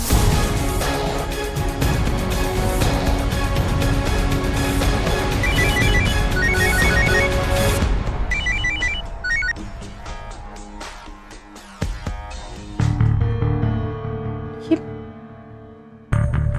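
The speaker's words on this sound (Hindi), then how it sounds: "नील ने मेरा फोन क्यों नहीं उठाया?" Telephone ringtone from a scene in the Hindi TV serial Dil Ko Aaj Fir Jine Ki Tammanna Hai, a melodic repeating ring loud over background music for several seconds before fading into quieter music and scattered sounds.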